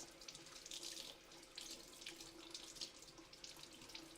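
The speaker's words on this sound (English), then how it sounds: "Just wash out all the red pepper bits." Tap water runs into a container while red pepper bits are rinsed out, a steady faint splashing stream with uneven gurgles and no voices.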